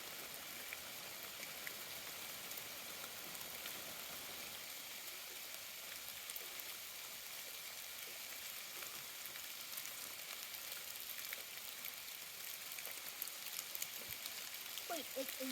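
During an ice storm, ice pops and crackles on the trees, a dense, faint, rain-like hiss of countless tiny ticks with no rain falling, heard outdoors with voices now and then.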